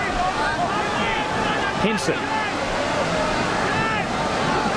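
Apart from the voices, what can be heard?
heavy rain pouring at a rugby league stadium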